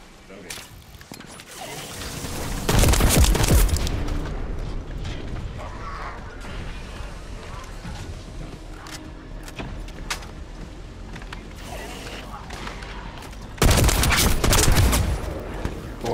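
Loud bursts of gunfire in The First Descendant as players shoot at a breakable object, two heavy volleys near the start and end with quieter mechanical clatter and voices between.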